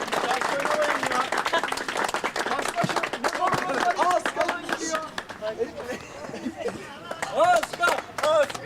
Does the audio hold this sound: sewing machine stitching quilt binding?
no